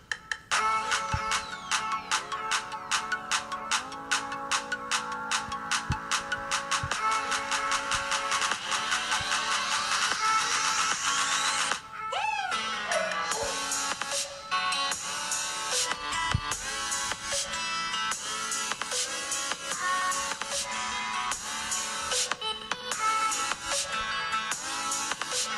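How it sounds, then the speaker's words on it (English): A song streamed from YouTube playing through the loudspeaker of a Nokia 7 Plus phone, continuous music with a steady beat, fairly loud and slightly thin, with a brief drop midway before it resumes. "So have a listen for yourself, a song from YouTube."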